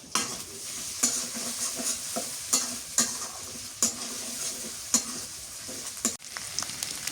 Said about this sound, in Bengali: মরিচ পেঁয়াজ শুটকি একসাথে ভাজলে অনেক মজা লাগে।